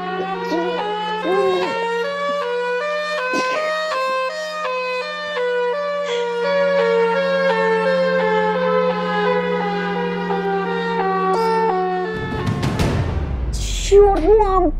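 Siren Head's wailing siren in an animated cartoon, a loud sustained, harmonically rich wail holding steady for most of the clip before a sudden low rumbling burst near the end, with no talk over it.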